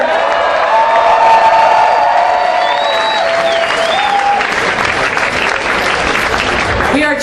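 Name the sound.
audience applauding and cheering for beatbox contestants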